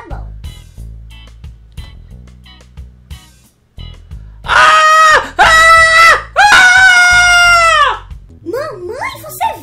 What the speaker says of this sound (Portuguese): você ouviu os gritos, Marcela?